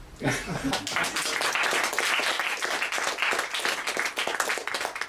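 An audience claps steadily to close a discussion on Greek capitalism and politics, a brief round of moderately loud applause with a little laughter mixed in.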